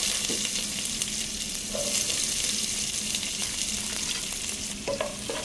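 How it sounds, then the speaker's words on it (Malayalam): Sliced onions sauté in hot oil with mustard seeds for an egg roast, giving a steady close sizzle broken by occasional scrapes of a spoon, with no talking. "സവാള ചേർത്തിട്ട് നന്നായിട്ടൊന്ന് വഴറ്റിയെടുക്കാം."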